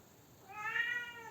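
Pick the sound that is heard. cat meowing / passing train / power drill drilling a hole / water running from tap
cat meowing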